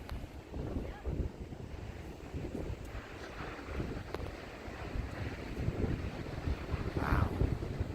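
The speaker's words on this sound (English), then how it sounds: "Those are big waves." Big ocean waves break at Wellfleet in January, rumbling as a broad, distant wash under heavy microphone wind buffeting, with a few faint voices.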